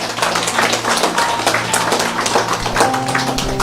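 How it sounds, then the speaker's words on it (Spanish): Steady clapping from a church congregation applauding one of its members, a brisk even patter of many hands held at a constant level for a few seconds. "un fuerte aplauso para él."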